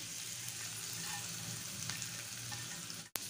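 Chicken and vegetables fry in a pan with a steady, faint sizzle that holds throughout, broken by a few light stirring taps and one sharp clack near the end.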